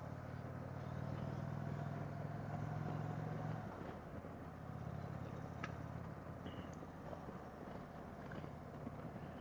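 A 2024 Indian Chieftain Dark Horse motorcycle ridden on a warm day, its engine a constant loud drone mixed with wind rush. The pitch of the engine note drops partway through.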